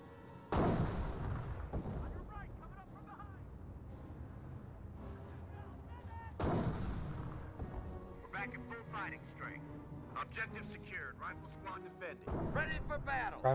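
Anti-tank guns and artillery fire in a Company of Heroes battle, with two heavy booming shots several seconds apart, rumbling echoes and scattered smaller gunfire and clatter, all under a commentator's voice.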